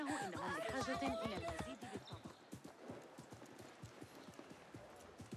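Horse hooves clop in a steady trotting rhythm in the video game Assassin's Creed Mirage, fairly close and moderately loud, heard under game sound with a voice talking over the first two seconds.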